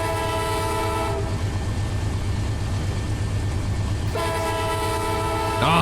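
Train running past with steady heavy rumble and rhythmic wheel clatter, a sustained multi-tone horn blaring at the start and again near the end, loud and close.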